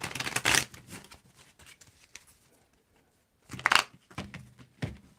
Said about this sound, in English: I'm going to give it a different shuffle.